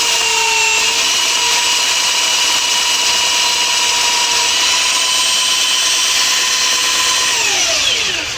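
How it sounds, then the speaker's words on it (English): A grinder shaves the top layer off a piece of wood across the grain, giving a loud, constant high whine with a harsh abrasive edge that runs without a break and then winds down in pitch near the end, with no speech. "this is going to take off that top layer of wood wherever you grind it"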